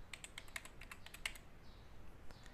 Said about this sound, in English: I will type in Contact Form